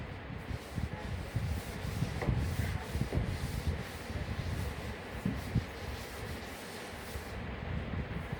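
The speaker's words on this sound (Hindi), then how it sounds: "मैं रब कर रही हूँ अब उनको" A classroom board being rubbed clean of writing during a science lesson, with sustained scrubbing strokes in an uneven rhythm, fairly close and moderately loud, with no voices.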